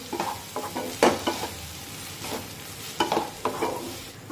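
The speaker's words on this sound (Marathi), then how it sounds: "2 मध्यम आकाराचे टोमॅटो टाकूया आणि हे टोमॅटो सुद्धा मऊ होईपर्यंत शिजून घेऊ" Two medium tomatoes cooking down in a pan for soybean chunk bhurji, with a steady sizzle broken by repeated scraping stirs close by. No one speaks.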